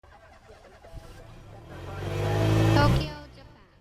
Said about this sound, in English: Engines roar beneath the skyline